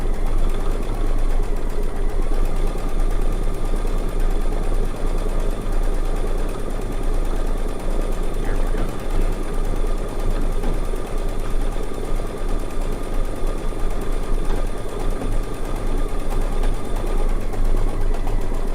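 A quilting sewing machine lays down layers of thread on a quilt with a continuous loud, dense mechanical drone and steady rapid stitching, unbroken for the whole stretch, with no voices.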